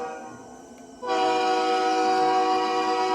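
A train horn in a video game blares in a sustained, chord-like tone that starts abruptly after a quieter rumble and holds loud and steady to the end.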